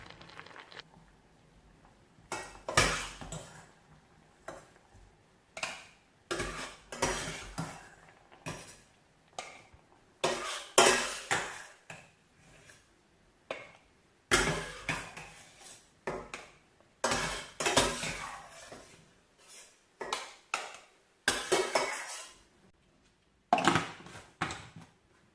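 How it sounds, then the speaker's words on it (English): Cooked apple and banana are scooped from a pot into a blender to make baby food, heard as repeated, close clinks and scrapes of a utensil against cookware, separated by short pauses, with no talking. "transfer the already cooked apple and banana to my blender"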